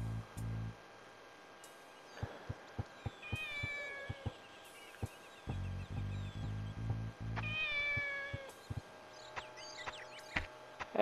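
A kitten in the video game Shenmue meows several times in short, high calls spread across the stretch, mixed with soft game ambience, footstep-like taps and occasional low thumps.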